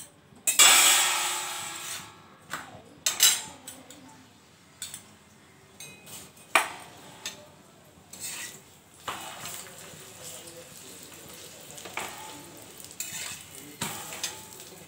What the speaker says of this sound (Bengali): এবার তেল দিয়ে দিচ্ছি।